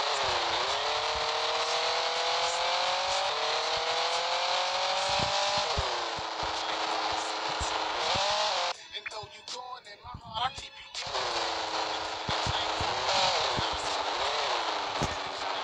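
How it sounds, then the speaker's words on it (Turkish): A car in the video game Miami Simulator drives and revs with a rising and falling engine whine that drops out briefly in the middle amid clicks and knocks, then returns and climbs again. "Evet arkadaşlar, şu an arabamıza biniyoruz."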